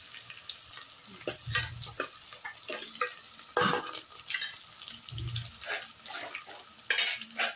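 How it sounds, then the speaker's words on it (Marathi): Bay leaves fry in hot oil in a pan, a steady soft sizzle broken by scrapes and clinks of a spoon stirring against the metal, close and moderately loud with no talking. "तेजपत्ता तळून निघेल ना"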